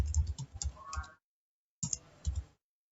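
Keys clatter on a computer keyboard as a variable name is typed into SPSS, in two quick bursts of close tapping separated by a brief pause.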